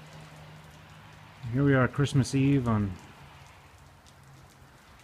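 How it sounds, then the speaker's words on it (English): Rain falls on Christmas Eve in Salt Lake City as a steady, soft hiss throughout, with someone speaking briefly over it. "Christmas Eve in Salt Lake City, and it's raining."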